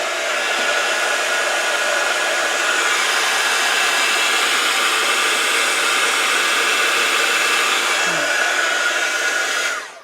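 A heat tool blows steadily to warm craft pieces, giving a loud, close, continuous whooshing roar that lasts the whole time with no speech.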